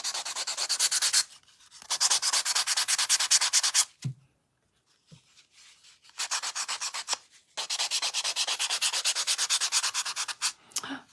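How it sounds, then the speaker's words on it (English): Hand sanding runs along the edges of a craft piece in close, rhythmic back-and-forth rubbing strokes, coming in several long bursts separated by short pauses. "So I'm just gonna take this, lightly sand all around those edges."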